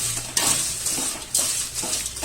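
Dried red chillies roasting in a drop of oil in a pan, a bright steady sizzle with occasional scraping stirs and clinks, close and loud with no talk.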